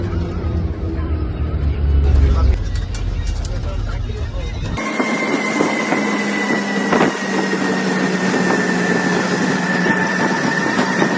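A pickup truck engine runs with a continuous loud rumbling drone, and people talk over it.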